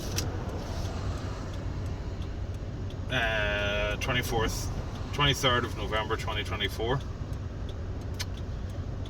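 A manual 2000 VW Golf Mk3.5 Cabriolet with a 2.0 petrol engine driving, a low steady engine and road rumble beneath someone speaking, with light rattles along the way.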